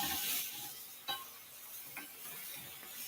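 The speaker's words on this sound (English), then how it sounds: "here I have my mushrooms are sautéing away" Mushrooms sauté in a pan on a stovetop with a faint, steady sizzling hiss and a few soft clicks from stirring, with no talking.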